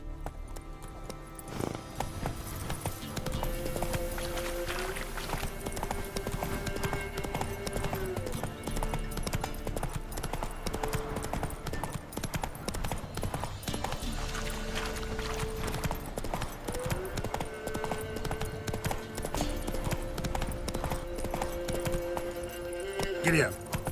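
Roach, a horse in The Witcher 3 on PS5, gallops with steady rhythmic clip-clop hoofbeats close up, running under game music and ambience throughout.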